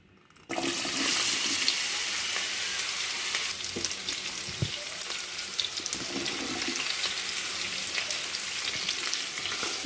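Cut bitter gourd pieces hitting hot oil in a pan, starting with a sudden burst and settling into a continuous loud, close sizzle with occasional faint scrapes.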